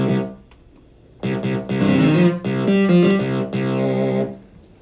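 A bass tone from a Casio CZ-1000 synthesizer plays as a single tone layer, a run of loud sustained buzzy notes with rich harmonics, each held about a second with brief gaps, alone without voices.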